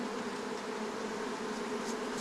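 Honey bees buzzing steadily and densely at close range around a queen-rearing colony during graft installation, a continuous droning hum with no talk.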